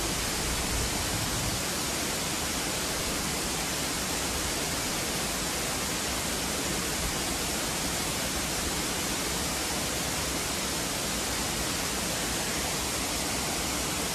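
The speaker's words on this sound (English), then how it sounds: "Here's the beautiful Baker's waterfall." Baker's Falls in Horton Plains National Park, Sri Lanka, roars as a constant, dense wash of falling water, loud and unbroken with no voices.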